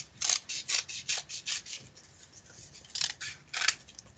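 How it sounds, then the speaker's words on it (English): Paper-cutting scissors snip in a quick run of about seven crisp strokes, pause, then snip twice more, close and clear with no talking, while a Thanksgiving turkey craft is made from coloured paper feathers. "when you cut using scissors, you always want to point the scissors away from your body"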